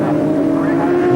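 Superbike engines at full race pace during the 1997 Australian Superbikes at Winton, a loud, continuous, close engine drone with a steady pitch and no clear gaps.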